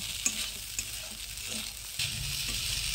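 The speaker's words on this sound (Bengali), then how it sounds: "চিনিটা যতক্ষণ না গলে আসতেছে ততক্ষণ আমি ভাজবো।" Sugar fries in a pan with nuts and raisins until it melts. A steady close sizzle runs throughout, with a few sharp taps and scrapes of stirring.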